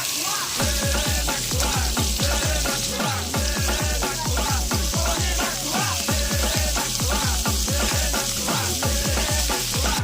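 Kaleta fish fries in a hot pan with a loud, steady sizzle and crackle, while rhythmic scraping strokes of a spatula repeat throughout, close and continuous with no talking.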